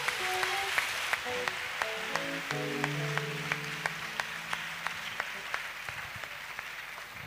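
A church congregation claps in praise, a steady rhythmic beat of hands over loud music with organ-like sustained tones and a regular percussive tick throughout.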